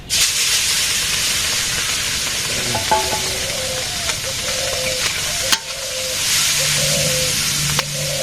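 Puti fish frying in oil in a village kitchen, a steady broad sizzle with soft crackles throughout, a few sharper pops and light clinks over it, close and fairly loud, no talking.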